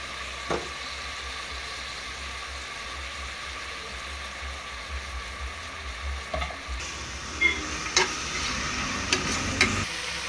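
Onions fry in ghee with a low continuous sizzle, joined by a few spatula knocks and stirs that grow more frequent toward the end, close and moderately quiet, with no speech.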